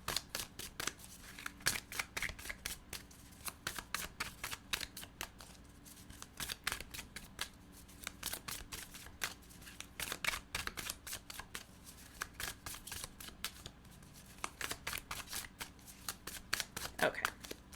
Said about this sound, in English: Give it one final shuffle here